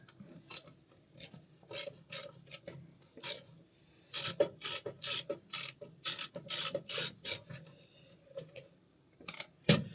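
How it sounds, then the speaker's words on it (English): Screws being undone on an ElectroVoice P3000RL amplifier during a repair, heard as repeated short bursts of close, dry rasping and ratchet-like clicking with brief quiet gaps between them. "Get these screws undone."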